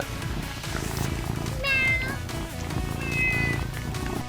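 A cat meows twice in a Pokémon-themed play setting, each call a rising, harmonic cry of about half a second, clear and close over steady background music.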